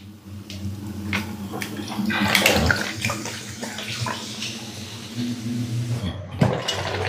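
Water running and bubbling as meat boils in Sprite, a steady rushing wash with a louder surge midway and a few clanks near the end.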